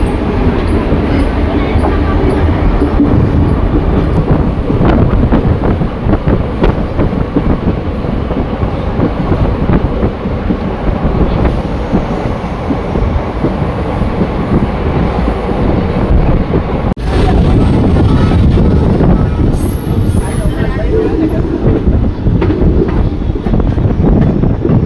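Veraval–Rajkot local train 59424 running on rails, a steady loud rumble with clattering wheels and wind buffeting throughout, heard from on board.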